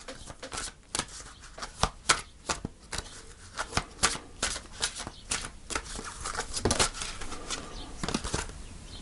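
Tarot cards being shuffled by hand before a card is pulled, a steady run of crisp, close riffling and flapping bursts repeating for several seconds, with no talk over it.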